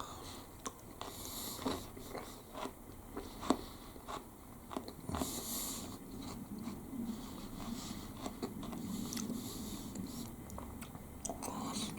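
Someone bites into and chews a big lump of crunchy water chestnut in a chicken and black bean dish, close to the mic: repeated sharp crisp crunches spread through steady wet chewing, with no talking.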